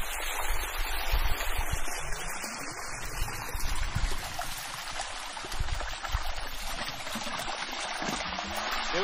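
Water pours from a pipe into the furrows of a maize field as a steady, hissing rush, broad and fairly close, with occasional gurgles rising above the constant flow.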